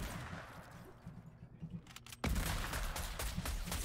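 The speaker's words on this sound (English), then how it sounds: "he shoots me through the wall" Auto sniper fire in Fortnite is faint at first, then a loud, close burst of rapid, heavy shots breaks in and keeps going to the end.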